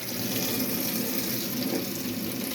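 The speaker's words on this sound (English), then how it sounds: "Perfect hot water coming out of there as well." Hot water runs steadily from a tap in a Swift Sprite Major 6TD caravan, a constant close hiss and splash with no one speaking.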